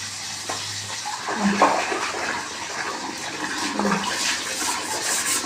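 Water rinses a powder-scrubbed toilet bowl during bathroom cleaning, a continuous, fairly loud gush and splash that swells and eases over several seconds.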